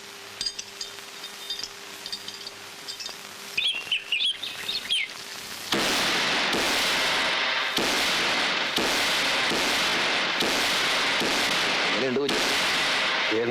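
A rapid string of firecrackers bursts loudly and continuously, a dense crackling barrage that starts abruptly after a quieter stretch of outdoor ambience with faint bird chirps.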